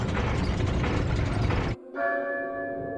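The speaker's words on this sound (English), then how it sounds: "lowers some kind of contraption, which rings the church bells" Mechanical contraption ringing church bells in Resident Evil 4 Separate Ways: loud grinding, clanking machinery that cuts off abruptly, then a sustained bell tone rings out and slowly decays.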